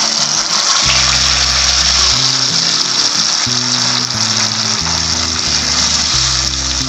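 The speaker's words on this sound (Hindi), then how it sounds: "अब ये तेल बिल्कुल गर्म हो चुका है। अब हम इसमें डालेंगे ये पेस्ट।" Masala paste hits a tablespoon of hot oil in a kadhai, a loud continuous frying hiss running under steady background music.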